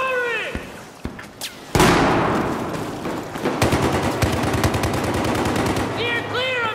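Rapid automatic gunfire in Battlefield 4 on Xbox One, a loud sustained burst of closely spaced shots after a sharp impact, with sporadic game noise and a brief voice nearby.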